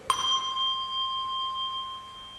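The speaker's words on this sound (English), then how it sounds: "And a slightly different sound if after I've thumped it I raise it." A single soft thump of a handbell on a padded table followed by a clear handbell tone as it is raised, ringing on steadily, close and sustained, slowly fading.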